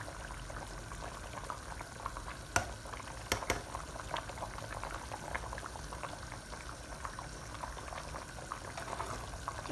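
Pork chops in sorrel sauce simmer gently in broth, a soft, steady bubbling with a few sharper pops and clicks scattered through, quiet and without talk.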